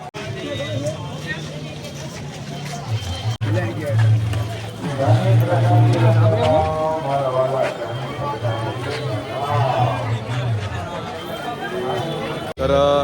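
Large crowd of pilgrims gathered at the starting arch of the Girnar parikrama, a dense murmur of many voices with a steady low rumble of movement and vehicles throughout, close and loud.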